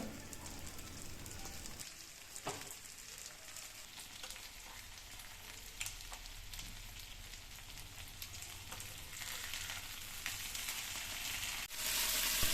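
Anjal fish pieces fry in a pan of hot oil, an even, close crackle and sizzle that runs on with a few sharp pops and no voices.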